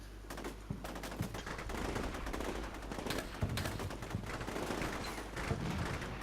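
SAW machine guns firing cyclic in the video game Combat Mission: Shock Force 2 during a Fallujah battle, dense sustained bursts of rapid automatic fire with overlapping shots and occasional heavier booms, continuous throughout.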